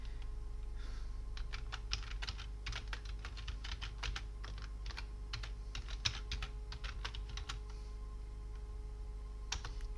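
Rapid, uneven keystrokes on a computer keyboard as a password is entered, close and fairly quiet, running throughout with short pauses over a low background hum.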